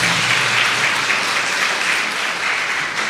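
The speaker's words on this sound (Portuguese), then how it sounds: "Dê um aplauso ao Senhor." A church congregation applauding during a service, a dense, continuous wash of clapping from many hands, loud and sustained throughout with no clear speech over it.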